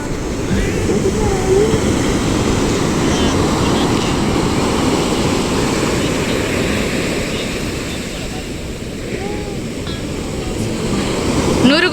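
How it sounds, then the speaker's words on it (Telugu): Big ocean waves at Marina Beach surge and break in a steady, loud, broad wash of surf that swells and eases slightly over the span, with faint voices of beachgoers underneath. "అలలు చాలా పెద్దగా వస్తున్నాయి."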